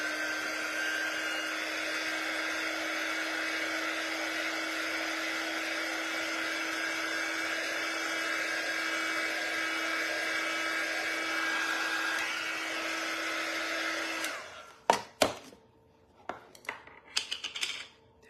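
A hair dryer blows steadily and loudly for about fourteen seconds, then cuts off, leaving scattered clicks and handling knocks.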